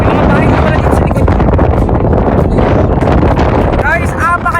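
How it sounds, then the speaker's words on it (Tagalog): Loud, strong wind buffets the microphone in a steady roar outdoors in Dimona, Israel, with a voice talking briefly underneath. "apakalakas na hangin"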